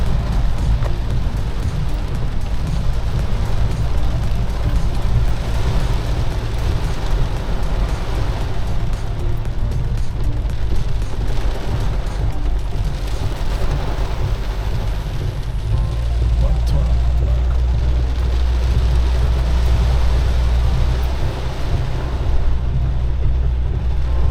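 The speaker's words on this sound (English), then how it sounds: "It's raining hard." Heavy rain drums steadily on a four-wheel-drive car driving through a downpour in Grenada, a dense continuous wash with low road and engine rumble throughout; people talk inside the car.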